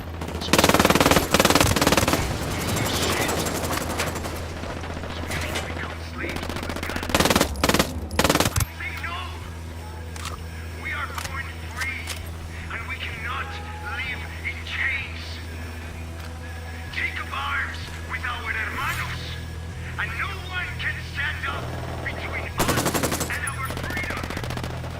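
Machine gun fire in the tactical shooter Ghost Recon Wildlands: loud bursts of rapid automatic shots open the stretch, then scattered shots and battle noise continue under a steady drone, with another heavy burst near the end.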